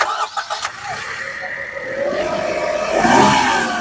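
A Maruti Suzuki Swift with a 1.2 litre three-cylinder Z series engine cranks briefly with a few stuttering turns and then catches, settling into a rising idle with a slight flare heard nearby and without speech.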